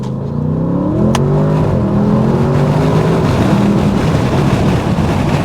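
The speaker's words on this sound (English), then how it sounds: "So people, let's floor it here." A 2023 Audi S8 pulls hard under full throttle, its engine note climbing loudly through the rev range with a brief shift and a deep, sustained roar heard from inside the car.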